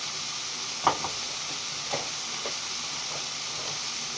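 Tomato paste being stirred into a hot pot of Hungarian goulash on high heat, a steady close sizzle broken by a few sharp scrapes and clinks of the spoon against the pot.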